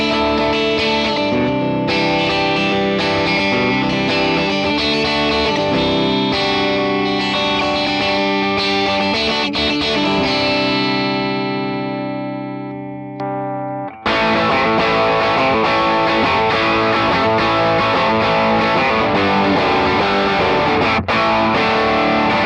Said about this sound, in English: And with this guitar in particular, on the split mode, it sounds like this.